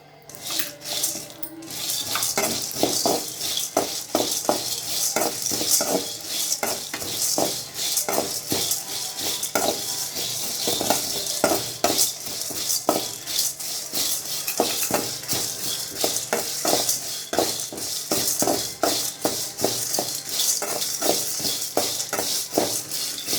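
Dried red chillies frying and being stirred in a pan for curry leaf powder, with a steady run of sharp metallic spoon scrapes and clinks over a continuous crackling sizzle.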